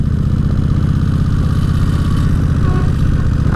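A 2003 Kawasaki Vulcan VN1600 Classic motorcycle cruising in a high gear, its engine giving a steady, loud, low rumble with a continuous even throb throughout, heard up close from the rider's position with no talking.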